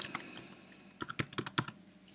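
Quick bursts of typing on a computer keyboard, close and fairly quiet, with a short pause then a denser run of key clicks.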